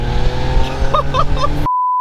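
BMW E46 fitted with a valved aftermarket exhaust, a loud engine note with a steady low drone and rising rev blips for about a second and a half, one brief word spoken over it, then it cuts off.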